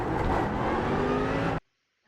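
Mercedes AMG GT3 race car on the Fuji circuit in iRacing, its engine roaring loud and close under steady acceleration for about a second and a half before cutting off abruptly into silence.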